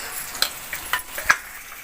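Jackfruit seed vegetable with turmeric sautéed in a pan, a few quick close spatula scrapes over a light sizzle in a short burst, no voices.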